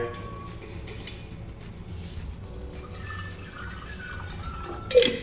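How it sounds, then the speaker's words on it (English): Water pours into a glass jug from a Xenia seven-piece drink set as a steady, soft trickle over background hiss, ending in a brief louder splash or clink. "pouring some water."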